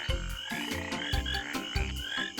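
A small green tree frog kept as a pet in a glass jar gives repeated croaks in a steady pulsing rhythm of about three calls, close and fairly loud, with no voices.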